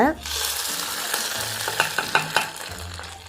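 Food sizzling in a hot pan while being stirred, a steady close frying hiss with several sharp scraping taps of the spatula toward the end.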